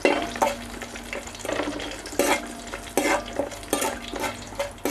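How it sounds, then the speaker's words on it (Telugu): Fenugreek seeds and curry leaves fry in oil with a crackling sizzle, cut by several loud stirring scrapes and splashes that come in bursts. "అలాగే కొద్దిగా కరివేపాకును కూడా వేసుకుని ఫ్రై చేసుకోవాలి"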